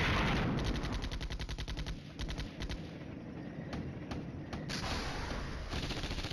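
Rapid bursts of distant automatic gunfire crackle in the wargame Flashpoint Campaigns: Red Storm, with repeated fast rattling volleys, short pauses and scattered single shots, steady and fairly loud.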